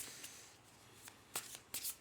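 Tarot cards are shuffled by hand, faint and close, with soft riffling swishes and a few sharper card flicks near the end, and no talk.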